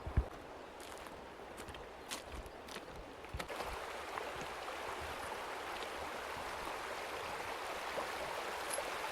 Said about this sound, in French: Donc là c'est la partie rivière.